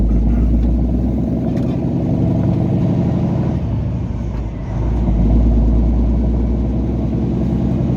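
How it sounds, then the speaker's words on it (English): A deep, throaty, abnormal engine rumble from a faulty truck runs steadily throughout, loud and close, dipping slightly midway before swelling back up. "that deep throaty sound that this truck is making that it's not supposed to be making"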